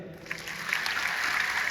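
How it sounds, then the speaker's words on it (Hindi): Brief burst of audience clapping for new pin achievers at a business gathering, rising quickly and holding steady for under two seconds. "सबसे पहले उनको बहुत बहुत बधाइयाँ, शुभकामनाएं नए पिन अचीवर्स को, एक बार ताली बजा दें।"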